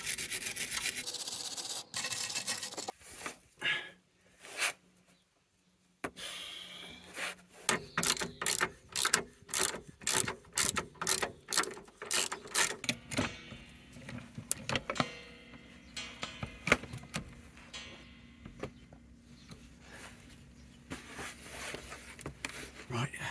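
A hand ratchet clicks in rapid repeated bursts while undoing bolts on a Mercedes W210 rear control arm, close and crisp, with pauses between strokes and a quieter stretch of mechanical rubbing afterward.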